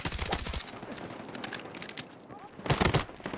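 KORD-6P67 machine gun fire in Battlefield 6, a sustained stream of rapid shots with a loud burst near the end.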